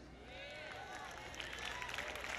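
An audience claps and cheers at a church service, a steady wash of applause that swells slightly toward the end, with no other sound on top.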